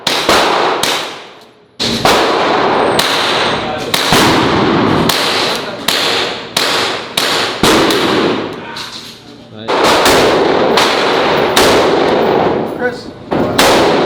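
Gunshots at a gun range, fired in rapid succession as loud, close, sharp cracks with brief gaps between bursts.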